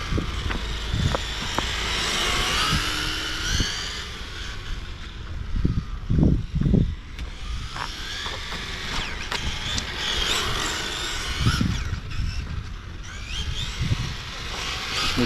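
Tamiya M-chassis RC car running laps on a circuit, a steady high-pitched motor whine rising and falling over continuous wind-like noise, with a few thumps.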